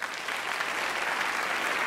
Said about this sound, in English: I would really like to invite one more round of applause for Robert Rosenkrantz